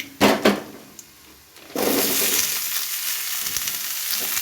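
Garlic and vegetables hitting hot oil in a pan for a pumpkin curry, a couple of clanks and a short quiet pause, then a sudden loud sizzle that continues steadily.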